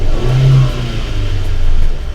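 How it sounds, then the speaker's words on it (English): The engine of a 2014 Hyundai i30 with advanced timing revs up close by in a short, loud rise and fall, then settles into a steady mid-pitched hum. "you can see the correlation between these as I rev it"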